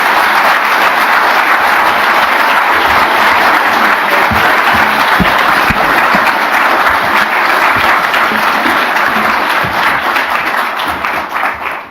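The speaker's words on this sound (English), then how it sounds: "with your very warm applause, would you please welcome to the stage President Ferdinand." A large audience applauds loudly and steadily to welcome President Ferdinand to the stage, dense clapping sustained throughout before tapering slightly at the end.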